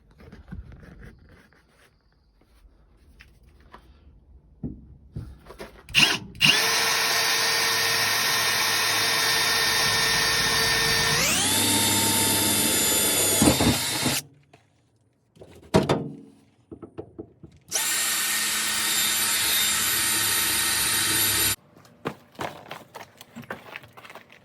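A power drill bores holes into the floor of a Chevy S10, running in two long, loud whirring bursts. The first rises in pitch partway through, and short clunks and handling noises fall before and between the bursts.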